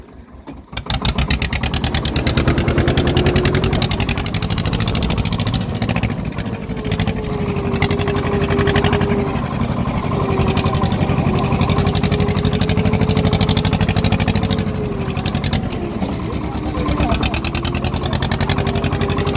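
Swaraj tractor engine running, a loud, steady diesel rumble close by that continues throughout with small shifts in pitch, with a voice talking over it in places.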